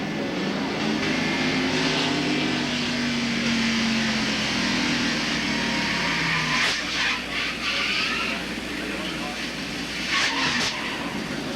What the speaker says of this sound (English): The first sound we heard was the 19 car hitting the apron as the car slid across the bank where it meets the apron.